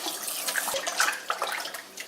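Tap water runs steadily over a whole raw chicken being rinsed, a soft continuous splashing with small irregular spatters, fairly quiet and close.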